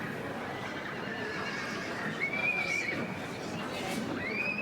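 Horses whinny repeatedly over a constant open-air crowd murmur at an agricultural show's main ring during a colt foal class, the neighs rising and falling at moderate distance with faint hoof sounds underneath.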